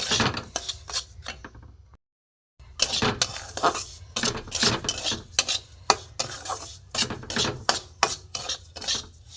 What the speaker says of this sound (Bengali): একটু ভালো করে ভেজে নেব, একটু লাল করে ভাজবো।